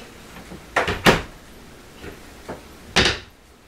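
A repaired cabinet door swung open and shut a few times, with sharp close knocks and softer hinge and wood bumps, near and clear in a quiet room.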